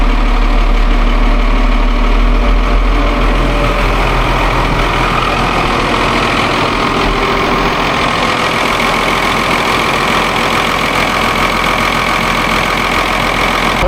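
A Cummins diesel engine starting cold without preheat on a farm, then settling into a steady, loud, rumbling idle that runs on unbroken and close by.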